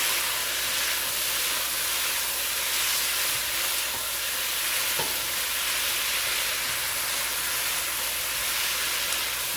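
About a pound of already cooked, deveined shrimp warms in a hot pan, producing a loud, even, continuous sizzle and hiss with a faint scrape or two of stirring.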